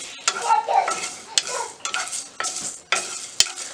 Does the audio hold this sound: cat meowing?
no